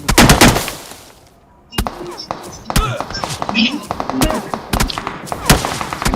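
Gunfire in the battle royale game BGMI, with loud rapid bursts of shots at the start, then scattered single shots and thuds while someone talks excitedly over them.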